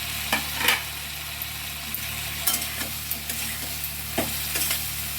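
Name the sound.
eggplant being stirred into frying spice masala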